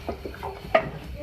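Half a teaspoon of ground cardamom powder is stirred into a dhaba-style beef stew in a pot: a few soft scraping strokes, then one sharper clink of a spoon against the pot near the middle, close and fairly quiet.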